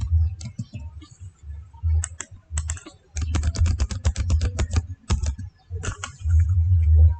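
Keys click rapidly on a computer keyboard while Ctrl C is used to copy data, coming in uneven bursts of close, sharp taps over a low rumble with pauses, no voices.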